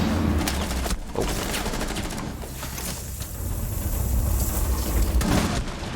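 Rapid bursts of automatic gunfire crackle in Rainbow Six Siege, loud and close, with dense overlapping shots, a brief pause, then more volleys and a sharp report near the end, no talking.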